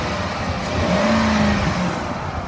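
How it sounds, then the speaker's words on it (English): A 2008 Ford Expedition XLT engine revs up steadily, pitch climbing and holding as it accelerates, loud and close with a constant mechanical roar. "The motor revs up nice and it sounds good."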